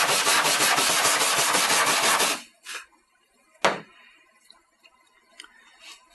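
An electrode on a DF 900 AluSpot aluminum repair station is cleaned with a steady, loud abrasive rubbing for about two seconds, then stops, followed by a single sharp tap and faint scattered handling noises.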